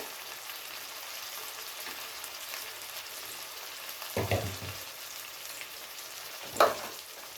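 Chopped tomato hits a pan of browned onions, setting off a steady, soft sizzle with two brief louder bursts of spattering partway through; no voices.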